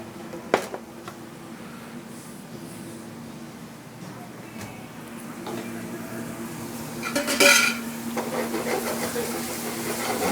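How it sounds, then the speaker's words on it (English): Lobster, shallots and garlic sautéing in a pan, a low steady sizzle under scattered clinks and scrapes of a utensil, with a louder burst of stirring and clatter partway through. "Get that lobster, shallots and garlic moving around pretty good"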